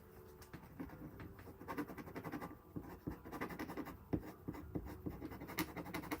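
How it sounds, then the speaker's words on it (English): Pen with an ink cartridge scratching on paper without writing, a soft, close, continuous scraping made of many short strokes at a quiet level. "My pen's not working."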